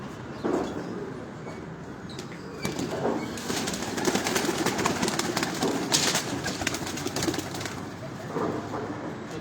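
Pigeons cooing on a rooftop in Rawalpindi, soft repeated coos with occasional wing flaps and rustling, heard at moderate distance amid faint background noise and brief voices.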